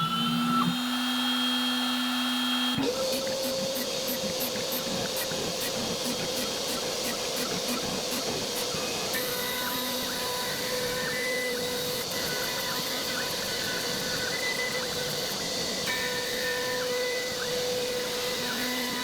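An upgraded wood-cutting machine, adapted for soft metals like aluminium and brass, cuts an engine block template for a Datsun 670 oil pan, giving a steady, loud whine with a rapid ticking layer that runs unbroken for about sixteen seconds.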